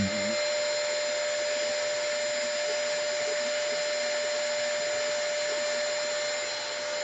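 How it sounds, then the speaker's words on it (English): Continuous buzzing whir of a power sander running steadily at close range, with a faint high whine throughout. "The sound of sanding."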